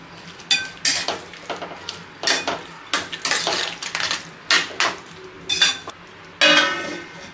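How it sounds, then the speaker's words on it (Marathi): A spoon stirs chickpea masala with curd in a cooking pan, with repeated scraping clatters of metal on the pan in irregular strokes over a soft sizzle, close and loud, with no talk. "आता एकदा मिक्स करायचं आहे"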